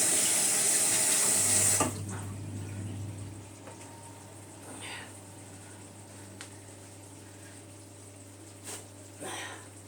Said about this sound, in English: Just wash my hands so I can stir it again.